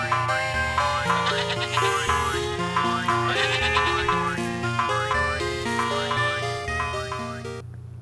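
A chorus of electric sheep bleats steadily and loudly in The Talos Principle, its wavering synthetic cries riding a repeating rhythmic backing and fading slightly toward the end, with no voices.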